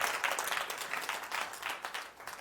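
A church congregation applauding, a brief burst of dense, rapid clapping from many hands, moderately close and rising and falling slightly.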